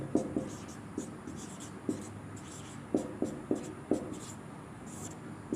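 A pen scratches across paper in short, close strokes and taps, spaced irregularly as figures are written out, with faint room noise underneath.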